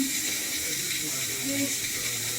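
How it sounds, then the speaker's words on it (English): Steam hisses steadily out of the released valve on a Power Pressure Cooker XL cooking chili, a continuous close-up rush with a faint voice underneath. "Turn our valve, let our steam out"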